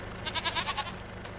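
Goats in the Farming Simulator 25 video game give a short, wavering bleat, fairly loud and close, with pulsing vibrato and no talk over it.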